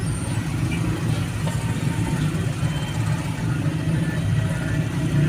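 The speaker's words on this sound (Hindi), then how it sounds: "ट्रेन गुजरी थी तो फिर फाटक हो गया बंद और ट्रैफिक सारी हो गई जैम" Steady low rumble of idling cars and trucks stuck in a traffic jam at a closed railway crossing gate in Lahore, a continuous dense engine drone with no clear breaks.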